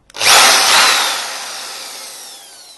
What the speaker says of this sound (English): we're going to drill a hole straight through the center there